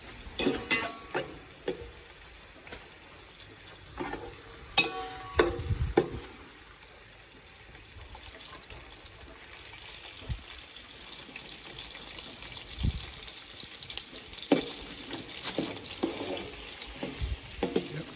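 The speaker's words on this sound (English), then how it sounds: "Let it saute till it gets just slightly brown, not too brown, just a little brown." Beef curry base sautéing in a pan with a low, gentle sizzle, broken up by a few scraping stirs and clinks in the early seconds and scattered utensil knocks later, no voices.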